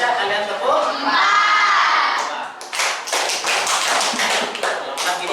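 A class of children claps in quick groups to count prayer rakaat, several crisp bursts of hand claps close by, mixed with excited shouting and chatter from the crowd of kids.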